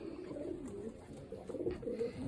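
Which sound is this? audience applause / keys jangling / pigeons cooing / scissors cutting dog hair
pigeons cooing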